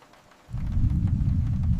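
Thunder during a storm at night with the power out rolls in as a loud, sustained low rumble that starts suddenly after a quiet moment and keeps going.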